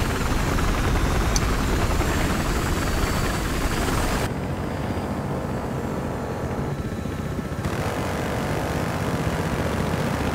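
A helicopter in Battlefield Hardline drones with a loud, continuous rotor and engine roar that dominates throughout, dipping briefly in level partway through before returning.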